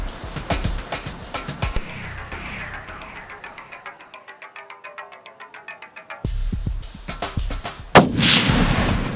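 Heavy gunfire in a game, a rapid, evenly spaced volley of shots followed by several louder, booming blasts, close and loud.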